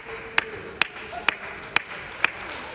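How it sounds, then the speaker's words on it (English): Clapping for teammates at a team event: five sharp, evenly spaced claps about half a second apart over a quiet room. "Clap for your teammates."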